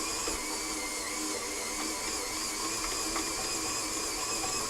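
A KitchenAid stand mixer runs steadily on a low speed setting, a constant whirring motor hum with gear whine, fairly quiet and alone with no talking.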